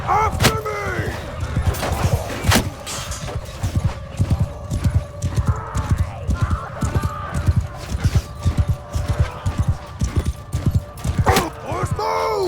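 Cavalry horses charging in the video game Bannerlord, a rapid rolling clatter of hooves with neighs and whinnies, shouted voices and clashing effects over a continuous loud gallop.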